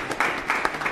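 Short burst of audience applause at a bodybuilding competition, dense and steady handclapping filling the moment without speech.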